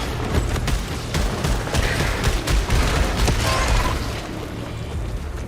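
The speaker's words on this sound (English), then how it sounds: "Ooh, now I have, like, seeker missiles." Seeker missiles firing in the sci-fi action game Returnal, a dense continuous barrage of rapid bursts and booming impacts with mechanical clatter, loud and steady throughout.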